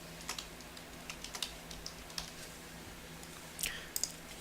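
Light, irregular typing on a computer keyboard while entering details on a tax form, with soft scattered key clicks and a brief quick burst near the end, faint and close against a quiet background hum.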